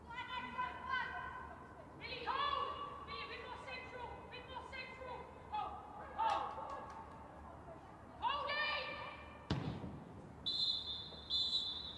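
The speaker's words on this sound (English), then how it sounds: "there we go, final whistle here" A referee's shrill final whistle rings out near the end of a Women's Super League football match, Manchester United versus Birmingham City, over a murmuring crowd and commentary-style talk in a large, noisy space.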